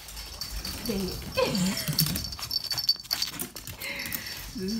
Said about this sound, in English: This is a hyper dog, I know.